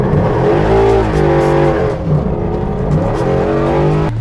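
A truck with a Coyote engine swap revs hard and close, its loud engine rising and falling in sustained bursts with no pauses.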